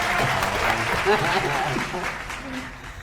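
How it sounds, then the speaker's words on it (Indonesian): Studio audience applause at an Indonesian television quiz show, a steady burst of clapping lasting about three seconds with voices mixed in underneath. "tepuk tangan dulu untuk Radio Indonesia"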